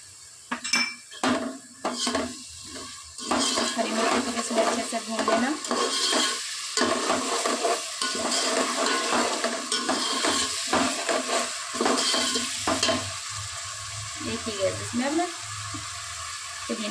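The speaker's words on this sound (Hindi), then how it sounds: "अच्छे से मिक्स कर लेना इसमें डालेंगे मैं हरी मिर्ची" Green chillies frying in a pan for Hyderabadi bagara khana khorma, stirred with a spoon that scrapes and clinks against the metal over a steady sizzle, close and busy with short pauses.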